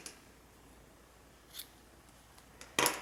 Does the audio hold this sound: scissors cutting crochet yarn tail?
yes